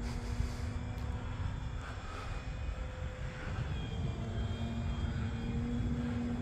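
Model propeller airplane flying aerobatics out of a loop with the prop kept spinning, a steady engine drone with a faint tonal hum, moderately distant and slowly swelling.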